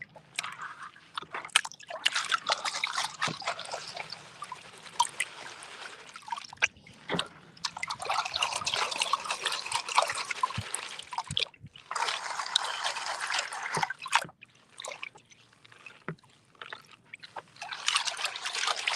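A gold pan is swirled and washed in water during backyard gold panning, giving irregular sloshes, trickles and drips that come in bursts with short pauses, close up and alone.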